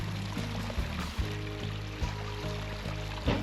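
Water trickles steadily down a lit backyard koi pond waterfall framed by big rocks in a bonsai garden in Charlotte, NC, a soft continuous splash with a faint steady hum beneath it and no talking.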